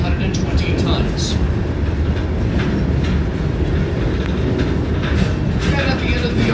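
Mid-to-late-1950s EMD diesel locomotives of about 1,750 horsepower, each unit near 120 tons, rumble steadily along the rails past a rail yard, with a dense continuous roar, faint wheel clatter and a voice talking over it.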